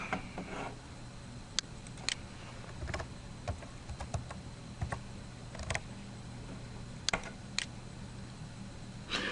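Keys on a computer keyboard tapped at a point-of-sale terminal to enter a transaction ID, scattered clicks in short bursts with pauses, close and fairly quiet, with no talk.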